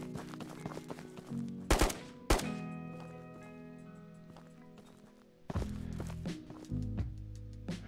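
Video game gunfire, a few sharp loud shots spaced apart, the last a short rapid burst, with footsteps and movement noises between them.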